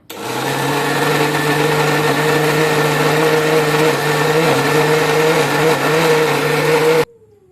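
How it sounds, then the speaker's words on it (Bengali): An electric mixer grinder grinds cooled spices for chicken changezi. It runs as a loud, steady whir with a slight pitch dip midway, then cuts off abruptly near the end. "এই যে দেখো এটা এখন গ্রাইন্ড করবে।"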